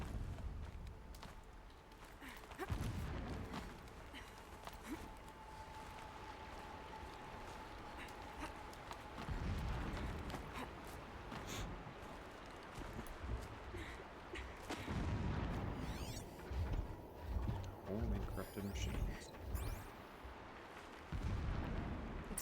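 Deep, rumbling booms roll in from a distance in the video game Horizon Zero Dawn, with a brief spoken line and scattered ambient effects between the blasts.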